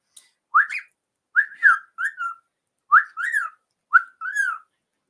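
A bird mimics a wolf whistle, a series of two-note whistles rising then falling, repeated several times with short pauses, clear and close.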